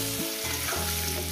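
Bottle gourd and potatoes frying in a pan, a steady close sizzle with faint stirring and no voices.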